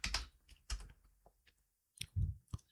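Short bursts of typing on a computer keyboard as a brief message is entered, a few close clicks and key taps separated by a quiet pause, with no talking.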